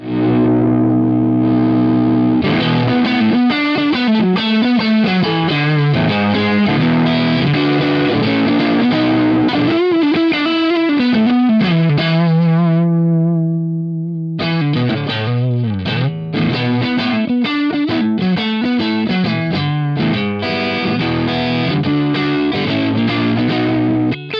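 A heavily distorted electric guitar runs through a Hughes & Kettner Spirit Nano amp, playing loud, fuzzy chugging riffs and chords with a held, ringing chord that decays before the riffing returns.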